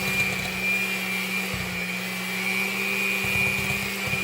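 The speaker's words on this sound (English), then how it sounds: "Again give it a beat to finally mix the sugar with the cream cheese" Electric mixer beating sugar into cream cheese, a steady motor whine with a low hum running continuously, close and fairly loud, with a brief dip in the drone partway through.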